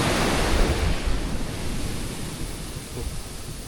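Sea waves roll onto the shore near a seaside house, a loud, continuous rushing wash with heavy low rumble and wind buffeting the microphone, no voices.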